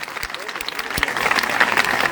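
An audience claps for a natural-farming magician at a gathering in Hisar, a dense run of scattered claps under a voice.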